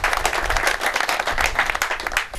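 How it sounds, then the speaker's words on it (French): An audience applauds after a welcome speech at an NGO event at a hospital in Bandjoun, Cameroon, a dense, loud burst of many hands clapping close by with no voices. "Je vous prie d'applaudir une fois de plus ce mot de bienvenue"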